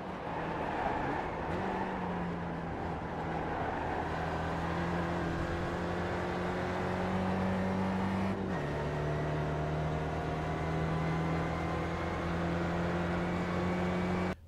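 Steady, sustained engine drone of an SRF race car lapping Bathurst in iRacing, pitch shifting through gear changes with a clear upshift step midway, loud and close throughout with no talk.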